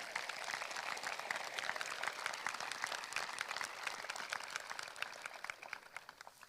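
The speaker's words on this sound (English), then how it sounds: "So please give our teachers a round of applause." A high school graduation crowd applauds teachers, a dense steady round of clapping from many hands that stays fairly distant and tapers slightly toward the end.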